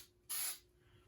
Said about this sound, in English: just a little spray adhesive